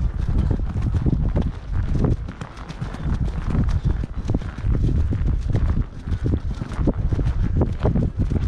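Horses gallop on a trail near the San river under overhead pipes, with rapid, continuous, close hoofbeats rumbling heavily throughout, mixed with wind buffeting the microphone.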